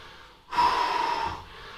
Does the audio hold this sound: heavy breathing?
yes